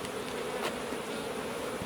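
Honey bees buzz in a soft, continuous hum around honeycomb during a honey harvest, faint and steady with a few individual bees passing closer, no talking.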